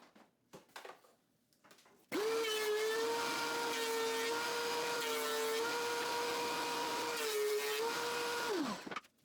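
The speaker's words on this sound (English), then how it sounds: "The last step in the milling process is the planer, for the fourth face." A thickness planer feeds a board of hardwood salvaged from pallets, a steady loud whining drone for about seven seconds after a short stretch of quiet shop noise, then cutting off as the board exits.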